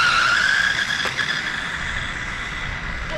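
Small cheap RC cars drag racing, a continuous high electric motor whine with tyre skidding and squeal, fairly loud and close, shifting pitch as they accelerate away.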